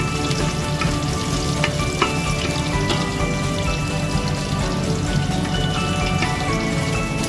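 Green chillies and spices sizzle in hot oil for a jackfruit vegetable dish, a dense, steady frying crackle with occasional sharp pops and no voices.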